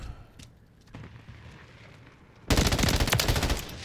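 Rapid automatic fire from an M13B rifle in a video game, a dense burst of shots that starts abruptly partway through and stays loud until the end, with a quieter, busier game scene before it.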